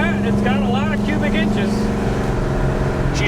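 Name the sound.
1968 Chevrolet El Camino engine revving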